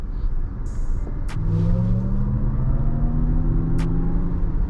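A 2023 Lexus RZ 450e Luxury electric car accelerating, with rising whine tones over a steady road rumble, heard from inside the cabin and without talk.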